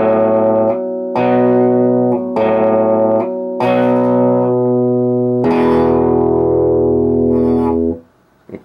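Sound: electric guitar riff played slowly

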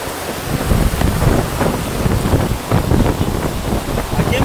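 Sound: heavy rain on the beach at Playa del Carmen

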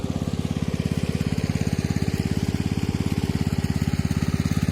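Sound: centrifugal water pump pumping from a groundwater well

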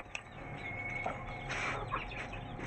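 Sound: hen clucking

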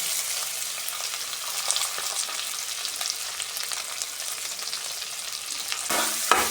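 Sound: chopped garlic and ginger frying in oil

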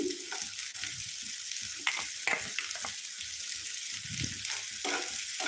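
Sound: frying chopped carrots for pasta

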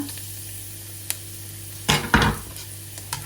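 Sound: garlic stir-frying in a pan

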